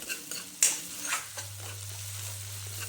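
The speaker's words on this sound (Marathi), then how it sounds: "आपल्याला त्याला छान फ्राय करून घ्यायचं आहे तेलामध्ये" Vegetables frying in oil for a homemade vegetable soup, a short burst of stirring and scraping over a soft sizzle, followed by a steady low hum.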